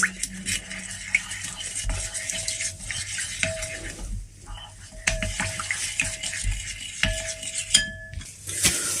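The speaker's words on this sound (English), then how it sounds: "I'm going to stir this a little bit" Sim White powder gets stirred into a face oil mixture in a small container, producing light, irregular clinks and scraping taps at close range with quiet pauses between strokes, no speech.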